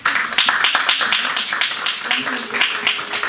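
Audience clapping as ninth-grade graduates enter the hall at a school graduation, a steady patter of many hands with some voices mixed in.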